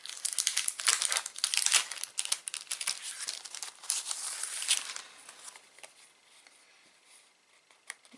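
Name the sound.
opening sticker packages, crinkling plastic wrapping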